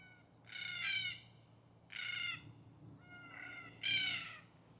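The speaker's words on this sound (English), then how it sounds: "There's some black cockatoos." Three loud, harsh calls from black cockatoos carry across a quiet morning near a park in Innisfail, Australia, each call spaced about a second and a half apart over faint low traffic hum.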